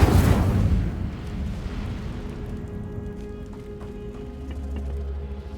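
Incendio fire spell cast in Hogwarts Legacy: a loud whooshing burst at the start, decaying into a rumbling, crackling roar that lingers at lower level, with game ambience beneath.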